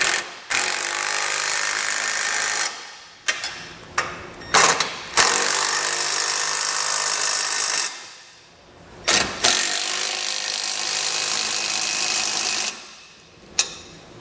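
A ratchet snugs down base plate mounting hardware on a 2015 Jeep Cherokee, giving sustained close whirring, buzzing runs broken by short pauses and clicks, with no talk.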